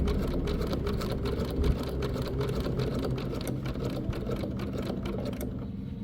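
A sewing machine stitches fur for a Halloween treat bag, using a Teflon foot and a short stitch length. It runs in a steady, close, continuous whirr that drops away at the very end, with no voices.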